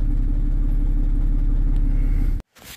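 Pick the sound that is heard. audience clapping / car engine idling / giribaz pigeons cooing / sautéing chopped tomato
car engine idling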